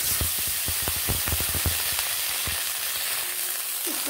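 Eggplant pieces frying in oil with a dense, steady sizzle and a run of sharp crackling pops near the pan, the popping thinning out toward the end.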